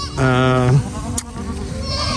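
A goat on a farm bleats once, a loud close wavering call, followed by quieter outdoor background noise.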